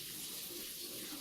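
Water running steadily from a tap into a sink while hands are washed, a constant faint hiss with no break over the short stretch.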